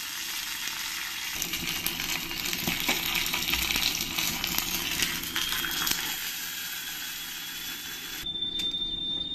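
Dried chillies and mustard seeds temper in hot oil with continuous dense crackling and spattering, loud and close, and a thin high whistle-like tone comes in near the end.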